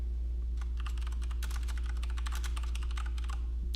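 Rapid, steady keystrokes on a computer keyboard as a name is typed, close and crisp over a constant low electrical hum, running without pause for the whole stretch.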